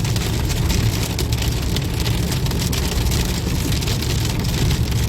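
Heavy rain drumming steadily on a moving car after a hailstorm along Route 66, a dense continuous wash of drops over a low engine rumble, loud and close with no talking.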